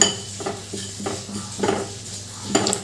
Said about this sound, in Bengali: এবার একটু ভালো করে নেড়ে চেড়ে ড্রাই রোস্ট করে নেব